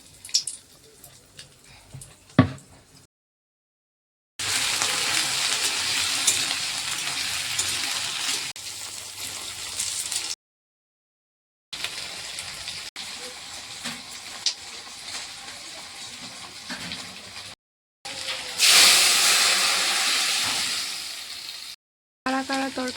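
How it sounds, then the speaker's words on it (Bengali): Dried red chillies frying in hot oil in a home kitchen, a steady crackling sizzle in several bursts broken by short silences, close and moderately loud with no talk. "আগে শুকনো মরিচটা ভেজে নিই।"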